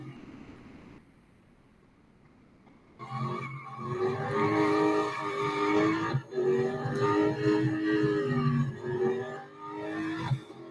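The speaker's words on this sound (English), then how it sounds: "I knew that car would slide at that corner." In the Real Racing 3 mobile game, a race car slides through a corner, its engine droning loudly with tire squeal layered over it, steady for several seconds after a quieter start.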